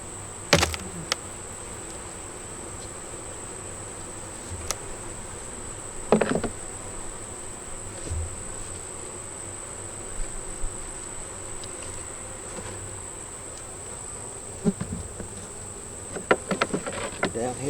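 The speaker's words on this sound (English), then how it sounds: "Down here we got more bees." A constant hum of bees buzzing at a hive fills the background, broken by a few sharp knocks and clatters at irregular moments.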